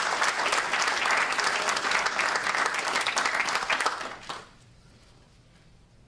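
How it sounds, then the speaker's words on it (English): A room full of people gives State Representative Olivia Florin a dense, steady round of applause at a Connecticut Myasthenia Gravis Month gathering. The clapping holds loud for about four seconds, then drops off sharply into near silence. "Let's all give a round of applause."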